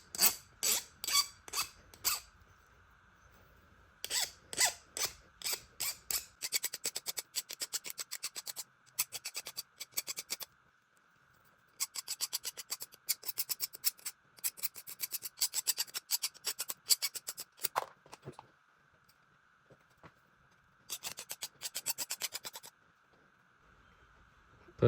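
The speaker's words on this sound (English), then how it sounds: "kind of file this burr down" Hand file rasping a burr off a freshly cut metal tube piece for a turbo pit bike's oil feed tube: bursts of quick back-and-forth scraping strokes separated by short pauses, close and crisp.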